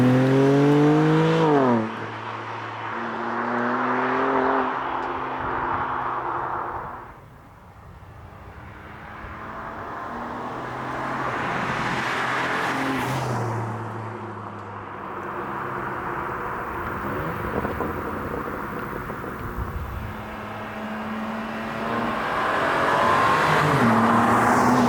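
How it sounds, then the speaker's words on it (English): A 2021 BMW G80 M3 Competition's exhaust roars past, dropping pitch as it downshifts through several gears, fading down the road, then returning and swelling loud again. "you can hear it all the way down the road as it's downshifting there and changing through the gears"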